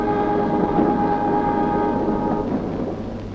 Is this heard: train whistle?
yes